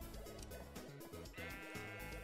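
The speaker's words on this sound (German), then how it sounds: "Da ist noch ein Schaf." A Minecraft sheep bleats in a wavering, nasal call over quiet game background music, fairly faint and alone without speech.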